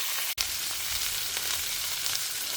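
Onions with ginger-garlic paste fry in a pan, a steady close sizzle and crackle after one brief clunk near the start, with no voices.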